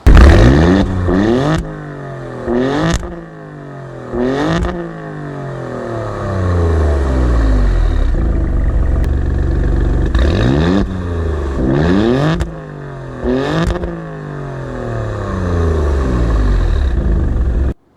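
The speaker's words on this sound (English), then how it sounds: "let's give a rev for the blue pill and for the red pill, but let's do it in race mode" A 2022 Alfa Romeo Stelvio Quadrifoglio SUV's twin-turbo V6, set to race mode, revs hard several times. Each loud, close blip climbs sharply and falls back, with crackles in between and a steady idle rumbling underneath.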